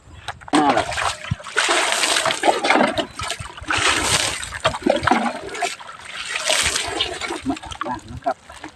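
Water splashes and pours in repeated bursts as someone bathes outdoors after a day of rice threshing in rural Thailand, loud and close, with brief voices mixed in.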